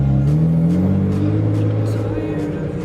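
A car on a rough dirt road off the main route to Mwingi thumps over bumps at a steady pace, its engine a continuous low hum with periodic jolts and knocks from the uneven surface.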